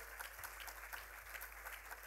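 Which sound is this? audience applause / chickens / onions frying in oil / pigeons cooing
audience applause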